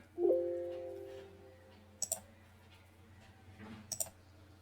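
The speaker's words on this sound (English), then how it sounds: "and I click save." A computer mouse clicks in Audacity to save a file, two pairs of crisp, close double clicks about two seconds apart after a brief tone, otherwise quiet.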